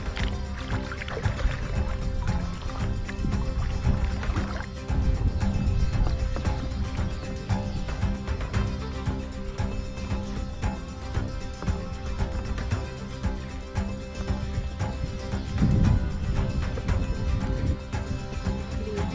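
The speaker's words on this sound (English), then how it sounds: "let's just see how much we can do while videoing and paddling" Paddling a kayak on water in Ireland, continuous rhythmic splashing and dripping from paddle strokes with some low rumble, close up and steady throughout, no speech.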